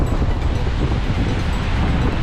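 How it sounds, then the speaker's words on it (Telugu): Sea surf at Bagjuna Beach rolls in as a steady, loud broadband wash, blended with heavy wind rumble on the microphone throughout. "వావ్, ఒక్కసారి బ్యూటిఫుల్ వేవ్స్ చూడండి."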